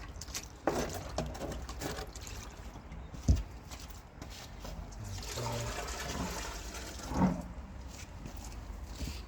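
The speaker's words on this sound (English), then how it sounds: "Now at the end of each of these you want to drain that water off." Water drains off a homemade paper log made as fuel for home heating, heard as a gurgling, splashing trickle. A couple of louder sloshes and thuds break in, and there is some handling noise.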